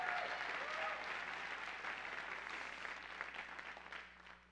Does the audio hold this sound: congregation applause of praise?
yes